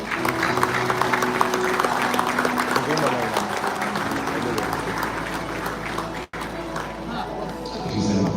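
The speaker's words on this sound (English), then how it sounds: "Can you have a warm round of applause" At the Sun Rise Sports Club golden jubilee celebration in China Fort, Beruwala, Sri Lanka, an audience claps warmly and steadily, with crowd chatter and a hum beneath. The applause breaks off briefly near the end, then resumes.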